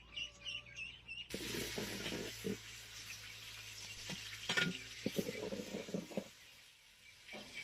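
Food being stirred and fried in a pan with a steady sizzle and intermittent scraping clicks, birds chirping in the background throughout.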